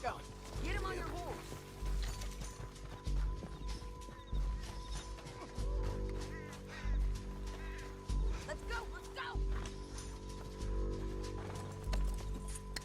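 Horse hooves clip-clop at a steady gait in the video game Red Dead Redemption 2, with a neigh near the start, rhythmic thuds continuing over a droning music bed and occasional voices.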